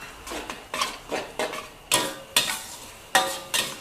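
A utensil scrapes and clatters against a pan while glass noodles with egg and cha-om are stir-fried, in a steady rhythm of sharp strokes close by, with no voices.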